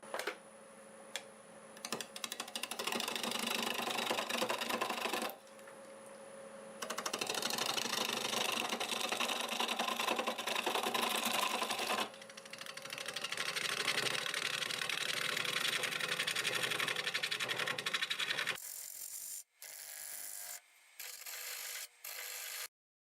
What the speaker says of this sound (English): Got my 1/2 inch bowl gouge for doing 750 RPM.